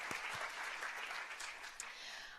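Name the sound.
audience applause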